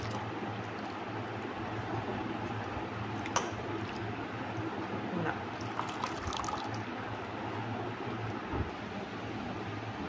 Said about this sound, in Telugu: ఇలాంటి వాటిలో వేసుకుంటే వాటర్ అంతా కూడా స్ట్రెయిన్ అయిపోతుందండి